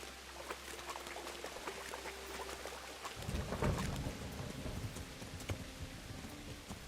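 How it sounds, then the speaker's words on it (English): Steady rain hisses through a video game thunderstorm, faint and continuous, with a low rumble swelling in partway through and persisting to the end. "This is some storm."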